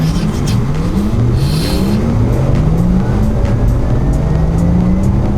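A Porsche Taycan electric car launching under launch control in Sport Plus mode, loud rising electric motor whine climbing steadily in pitch with road and tire roar beneath, heard from inside the cabin.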